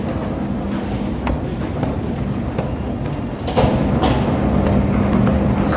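A metro train in a Canadian station rumbles steadily, with rising clatter and a louder surge near the end as it pulls in, and no talk.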